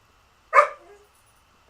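A single short bark from a dog wanting to be let outside, sharp and fairly close, followed by quiet, with no talk over it.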